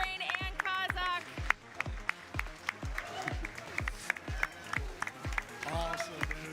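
A venue crowd at the Red Bull Legends Inn 2025 esports event applauds the champions, steady clapping and cheering beneath an announcer's loud voice and thumping background music.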